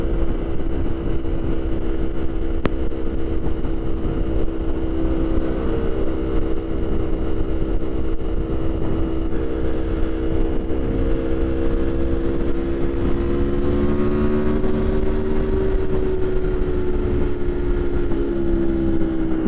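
An Aprilia Tuono Factory 1100 motorcycle engine drones steadily and loudly throughout a commuting ride, with a constant rumble and smooth pitch shifts, and no one talking.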